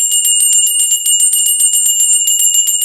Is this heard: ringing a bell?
yes